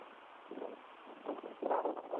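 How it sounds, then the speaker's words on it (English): Strong blizzard wind gusts through a snowy wooded area, a steady broadband roar swelling into louder surges toward the end, close to the microphone with no voices. "The winds pick up."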